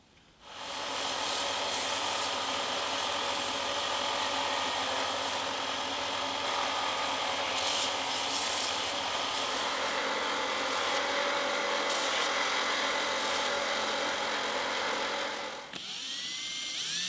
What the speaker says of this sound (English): I'm filing a few grooves into the rod so the epoxy has got something to grab